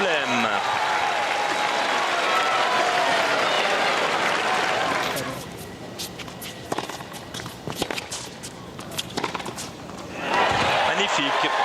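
A tennis crowd breaks into loud, sustained applause, drops to scattered claps and a commentator's voice midway, then surges again into full clapping at the end.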